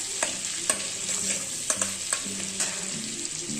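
Amul butter melts into hot oil in a pan with a steady close sizzle, interrupted by several sharp stirring clicks and scrapes against the metal.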